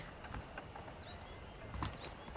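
Horse hooves clip-clop at a steady walking rhythm in Red Dead Redemption, faint and low beneath a soft ambient background.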